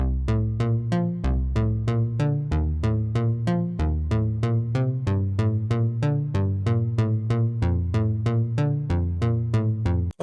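Reggaeton melody played on a Flex synth preset in FL Studio 21, with steady rhythmic plucked notes over a deep, pulsing bass line, looping continuously for about ten seconds without any talking.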